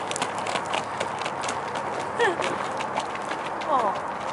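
Soft rhythmic hoofbeats of a horse moving at a canter on the ground, mixed with outdoor noise and brief bits of nearby voices.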